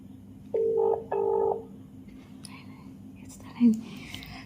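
Phone keypad dialing to place a missed call: two steady electronic tones, each about half a second long, sound in close succession near the start. Faint background noise and a brief soft sound follow.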